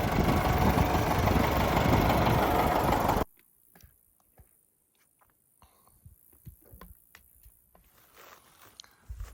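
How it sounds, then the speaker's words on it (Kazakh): An autonomous robot tractor ploughing a field in the Ak-Bayital area of Tong district: a loud, dense engine rumble for about three seconds that cuts off abruptly, leaving near-quiet with scattered faint ticks and knocks. "Трактор өзү робот. Өзү робот трактор бул."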